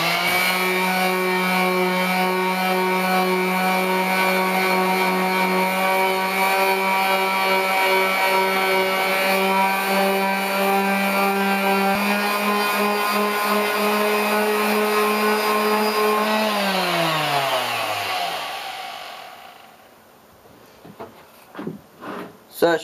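A powered sander with 150 grit paper strips paint in a loud, steady whine with strong tones, then spins down and stops near the end, followed by a few quiet knocks.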